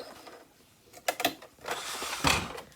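A sewing machine runs a reverse stitch on fabric while finishing a quilted accessory roll made from fat quarters, giving short bursts of close mechanical whirring and clicking separated by brief pauses.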